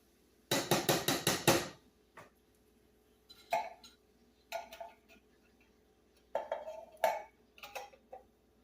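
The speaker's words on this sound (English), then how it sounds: "I'm going to give that a stir and mix them in" Spoon scraping and knocking in a pot while stirring Texas hash with canned tomatoes and green chilies, a quick burst of rapid clinks followed by scattered separate taps and clatters with quiet gaps.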